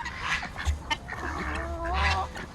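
Geese and ducks honk and call outdoors on a sunny day, a busy flock of overlapping nasal honks and quacks filling the air, fairly close and continuous.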